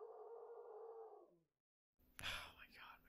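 A dog howls in a long, steady wail that fades out, followed by a short silence and then people talking close by.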